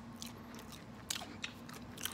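Crunchy fried salt and pepper chicken wings being bitten and chewed up close, with a steady crunching texture and a couple of sharper crisp bites standing out, no talking.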